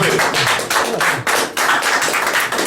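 Loud, close clapping from an audience, arriving in uneven bursts separated by brief dips rather than one smooth roar.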